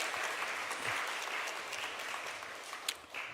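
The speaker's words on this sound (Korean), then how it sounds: "우리 크게 박수 한번 해드리죠" A church congregation at a Sunday service applauds a visiting missionary from Vietnam, producing soft, steady, fairly distant clapping that continues through the moment.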